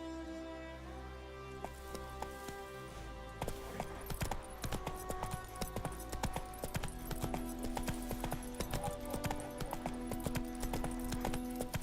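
Roach, the horse in The Witcher 3, trotting with rapid rhythmic clip-clopping hooves that start after a few seconds and carry on steadily over game music and ambience.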